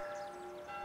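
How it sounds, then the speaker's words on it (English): Church bells ring steadily from a village church in a classic children's animated series, a sustained metallic tone that sounds faint and distant, heard alone with no voices. "Bells?"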